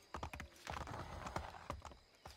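Horse hooves gallop in the Assassin's Creed III video game, a quick, uneven clip-clop of hoofbeats close by, with a faint whinny mixed in.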